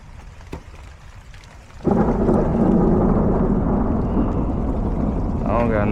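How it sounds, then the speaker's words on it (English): Thunder rumbles outdoors during an HVAC service call as rain begins, starting low and then swelling into a loud, sustained roll that continues to the end, with a voice speaking briefly near the close. "Oh, damn, that thunder."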